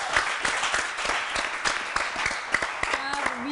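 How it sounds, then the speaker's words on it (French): Steady applause from an audience, a dense patter of clapping with a voice speaking over it near the end. "vous devez encore applaudir pour féliciter nos deux candidats du jour"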